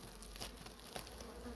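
A swarm of bees buzzing around a beehive full of honey, a steady, dense insect drone that stays at an even level throughout, fairly close and with no voices over it.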